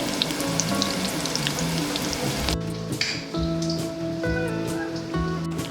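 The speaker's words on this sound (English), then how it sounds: "It's just vegetable oil, and we're just gonna do a quick shallow fry" Crab cakes shallow fry in vegetable oil with a dense, crackling sizzle and spattering pops, steady and close, with brief clatter from handling the pan partway through.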